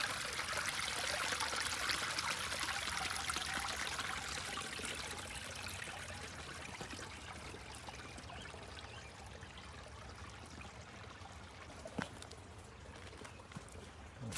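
Water runs steadily over a short section of an old canal near a bridge, a continuous broadband trickling rush that stays close and fairly loud throughout, easing slightly in level over time, with one brief click partway through and no voices.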